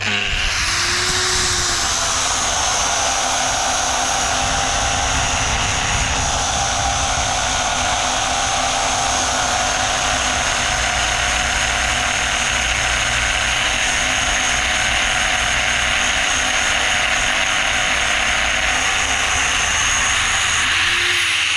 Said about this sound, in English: I take my angle grinder right here.